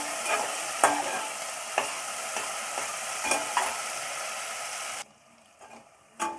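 Green chilies, cut lengthwise, sizzle and fry in a pan for egg pasta, with a steady loud hiss broken by sharp stirring scrapes, then the frying suddenly drops away to near quiet with a few soft clinks.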